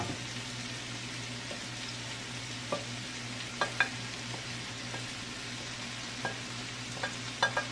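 Softened potatoes and chili are stir-fried in a hot pan, giving a steady sizzle under scattered clicks and scrapes from the stirring utensil, close and fairly quiet.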